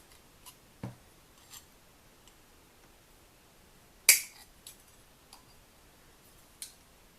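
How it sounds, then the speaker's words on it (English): Scissors snip apart stamping dies in a quiet room, giving a handful of sparse, crisp cuts and clicks at irregular intervals, with one sharper, louder snip standing out. "I'm going to go ahead and cut them apart so we can store them together"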